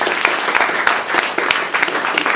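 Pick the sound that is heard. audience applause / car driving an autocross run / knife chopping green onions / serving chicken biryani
audience applause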